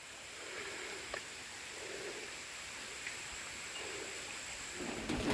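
Steady, soft hiss of rain falling continuously, with a few faint drips and taps standing out now and then; no voices.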